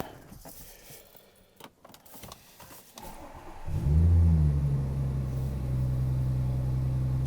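Keys rattle and a car door clunks, then an Audi S4 B8.5 3.0 TFSI V6 with aftermarket exhaust cranks and fires up, settling into a loud, steady idle up close.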